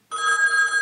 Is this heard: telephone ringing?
yes